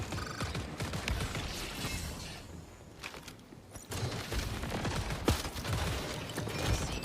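Rapid bursts of automatic gunfire from a ranked first-person shooter, loud and dense, pausing briefly in the middle before another sustained stretch of shots with clattering impacts.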